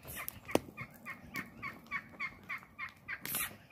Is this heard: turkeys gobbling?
yes